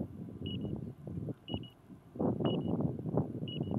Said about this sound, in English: timer's up.